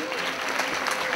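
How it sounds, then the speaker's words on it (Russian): Theatre audience applauding at a Tatiana's Day student celebration, a dense, even roar of many hands clapping with faint voices mixed in. "Аплодисменты, друзья мои!"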